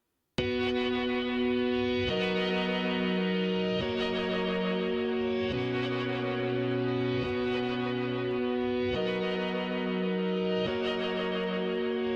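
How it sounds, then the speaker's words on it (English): A bright, heavily processed synth chord progression plays steadily, each chord changing every couple of seconds with a crisp, compressed, shimmering tone. "This is a multi-band compressor, but essentially it just makes stuff sound very bright"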